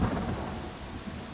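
Rain and rolling thunder in the video game Pathfinder: Kingmaker, a deep thunder rumble over a steady wash of falling rain, fairly loud and continuous with no talking.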